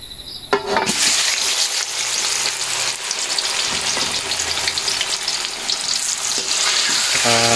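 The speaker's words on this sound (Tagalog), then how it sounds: "pag natunaw na yung asukal sa mantika, ilagay nyo na yung saging" Sliced bananas fry in oil and melted sugar for bananacue, giving a loud, continuous crackling sizzle with bubbling throughout and a short clatter near the start.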